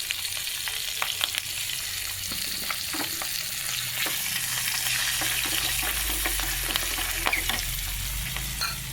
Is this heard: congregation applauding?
no